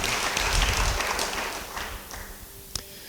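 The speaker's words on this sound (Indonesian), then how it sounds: "Yang mau beri tepuk tangan bagi dia." A church congregation applauds during a sermon, a broad wash of clapping that is strongest at the start and then thins out and fades, with one sharp late tap near the end.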